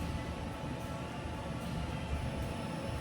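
A SWI TRAK 1630RX CNC toolroom lathe spindle ramping up in speed, a steady loud mechanical rumble and whir with no talk.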